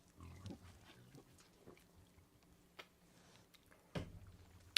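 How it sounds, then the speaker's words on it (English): A pig in a horror video game, Stay Out of the House, grunts and snorts in a few short, low bursts, faint and scattered, with soft thumps and clicks between them in an otherwise quiet space. "Threw me in there with a damn pig."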